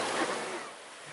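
Big ocean waves break and wash onto the shore in a steady, rushing roar, strong current churning close by, with no other sounds standing out.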